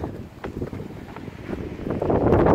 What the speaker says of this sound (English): so windy out here. It's really windy.